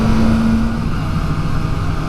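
Steady engine drone from a 2023 Kawasaki ZX-4RR motorcycle on a test ride, loud and continuous with wind rush, holding a fairly even pitch without sharp revving, no talk.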